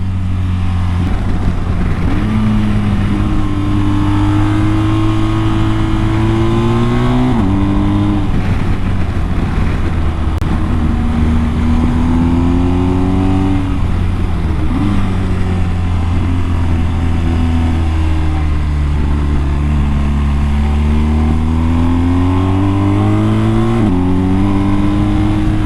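A dirt bike riding on Trailmax Mission tires, its engine revving up and dropping back through repeated gear changes, loud and close, running steadily with no talking.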